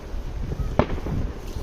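Firecrackers going off by a lake: one sharp, close pop stands out amid a faint crackling, rumbling background, with scattered softer bangs around it.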